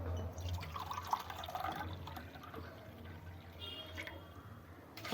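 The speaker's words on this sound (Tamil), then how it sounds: "இதில் தண்ணி ஊற்ற போகிறேன் முழுகிற அளவுக்கு." Water is poured from a vessel into a cooking pot of washed ingredients until they are covered, a soft continuous trickle with faint drips and light kitchen clatter, close by and fairly quiet.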